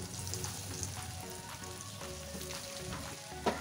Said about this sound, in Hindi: अब इसी प्रोसेस से मैं बाकी के सारे ब्रेड पार्सल को फ्राई कर लूँगी